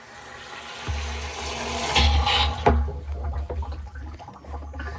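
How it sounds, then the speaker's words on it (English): Hose water pours into the water tank on a Honda 700 ATV, a steady close rushing and gurgling fill with a few louder splashing surges partway through. "Straight hose water."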